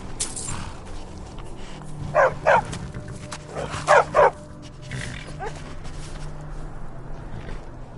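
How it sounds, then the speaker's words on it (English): A war dog in the video game Skyrim barks in two quick pairs of loud, close yaps, set against a constant low ambient game backdrop. "You have to train a good war dog."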